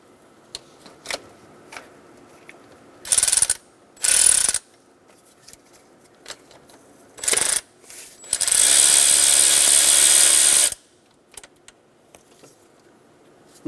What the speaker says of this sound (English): Remove the 12mm nut and pull that plastic housing off.